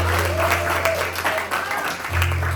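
Audience applause at a talent show fills the space, broad clapping over a steady low electrical hum, with a few voices mixed in.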